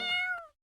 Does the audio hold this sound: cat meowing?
yes